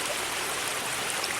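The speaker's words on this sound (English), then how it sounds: "we can just hike right up the waterfalls" A small waterfall running low in early fall, giving a steady, close, even rush of splashing water with no voices.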